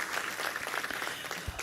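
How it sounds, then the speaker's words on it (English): Audience applause at an event with a congressional speaker, a soft, steady patter of many hands heard from a distance, fairly faint throughout the short burst. "Please help me give her a round of applause as well."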